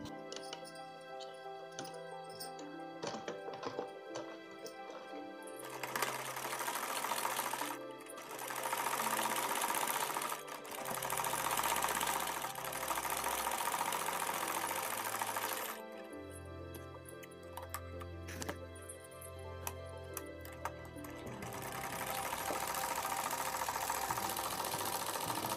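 A sewing machine stitches a suit sleeve in several long runs, each several seconds, with brief pauses between them, its motor hum and rapid needle ticking close and steady, and no talking.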